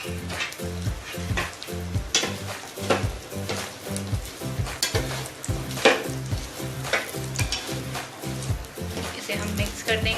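Taro (arbi) cooked on a low flame in a pan with ajwain, turmeric and salt, producing a steady close sizzle broken by repeated stirring and scraping against the pan.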